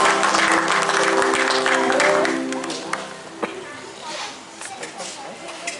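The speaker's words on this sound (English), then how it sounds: "let us give them a big clap" Applause at a Republic Day 2021 celebration in a residential colony in Bangalore: brisk clapping from a gathered crowd for about two seconds, fading into scattered claps and murmuring voices.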